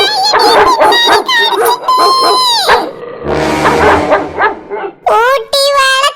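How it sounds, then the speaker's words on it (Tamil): A dog barks and yips loudly at close range in a short burst, mixed with excited human voices that talk before and after it. "ஐயோ நாய் பக்கத்துல வந்துட்டு."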